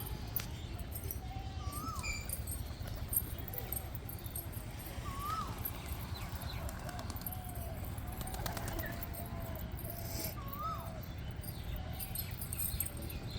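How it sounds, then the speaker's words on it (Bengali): Pigeons coo softly while feeding on scattered rice outdoors, several repeated short cooing calls over a steady low rumble and faint insect chirps, with brief light clinks. "তোমরা পায়রাগুলো খাচ্ছে দেখতে থাকো"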